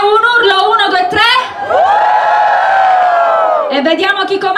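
Women in an outdoor piazza concert crowd in Bompensiere scream together on cue, a sustained high collective shriek lasting a few seconds, with a loud voice talking over the crowd before and after.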